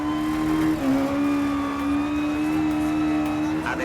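Onboard engine of a Citroën Saxo S1600 rally car in the EA Sports WRC game, a steady high-revving drone with sustained tonal whine and slight pitch shifts, loud and continuous with no talk.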